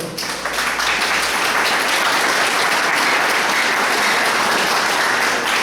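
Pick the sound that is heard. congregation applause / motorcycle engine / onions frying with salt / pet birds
congregation applause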